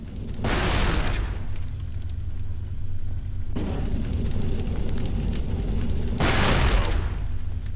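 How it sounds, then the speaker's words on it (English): Grenade blasts in the video game Cold Fear: two loud, close booms with a deep rumbling roar that lingers between them over constant low background noise. "We fire off a grenade, it does about half damage"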